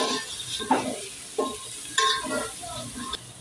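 Turmeric and coriander powder are stirred in a hot pan for veg biryani, giving a soft steady sizzle broken by several distinct scraping strokes of a spoon against the metal, close and fairly quiet.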